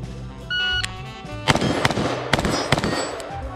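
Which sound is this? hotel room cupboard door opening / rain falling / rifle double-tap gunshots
rifle double-tap gunshots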